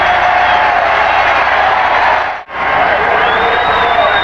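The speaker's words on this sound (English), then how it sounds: "the crowd whoops it up" A football stadium crowd roars and whoops after a touchdown at a 1985 USFL game between the Stallions and Bulls, a loud, dense wall of cheering that briefly drops out midway before swelling back up.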